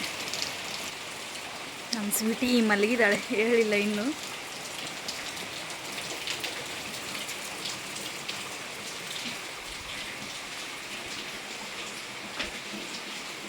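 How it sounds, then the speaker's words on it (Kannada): Steady heavy rain pours throughout, with a person briefly talking in Kannada over it near the start before the downpour continues alone. "ಏನು ಮಳೆ ಕೇಳ್ತೀರಾ"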